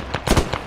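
Mortar rounds landing in a WWII battle game, several short dull thuds and cracks in quick succession with the loudest burst in the middle, fairly close, no voices over them.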